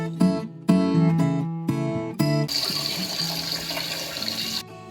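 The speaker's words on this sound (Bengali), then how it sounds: "এখন এগুলোকে নামিয়ে নেব এবং জলগুলোকে ছেঁকে নেব।" Hot water from boiled taro is poured off and strained into a sink, giving a steady splashing gush that follows a few clattering knocks of the pot.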